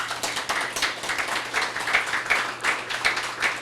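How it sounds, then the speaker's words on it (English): Applause from the audience at an NC Works ribbon-cutting ceremony, a short round of steady clapping from a modest crowd, even and moderately distant with no talk over it. "give yourselves another round of applause because we should celebrate often about that"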